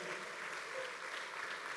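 Church congregation applauding during a service, a brief, faint, even patter of many hands, heard from a distance, with a voice faintly audible beneath it.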